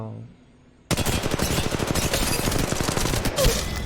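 Rapid automatic gunfire with recoil in the mobile game Apex Legends Mobile bursts in after a quiet start and keeps going as a loud, dense, continuous stream of shots.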